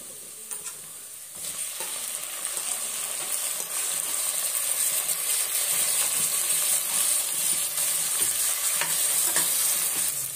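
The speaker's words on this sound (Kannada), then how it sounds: "ಈಗ ಕಟ್ ಮಾಡಿರುವಂಥ ಟೊಮೊಟೊನ ಸೇರಿಸ್ತಾ ಇದ್ದೀನಿ" Chopped tomatoes sizzle and fry with browned onions in a pan for chicken biryani, a steady bright crackle with scraping stirs and spoon clinks, close up and alone.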